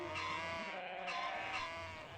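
A cartoon goat bleats on a farm, a loud wavering call lasting about two seconds with no speech over it.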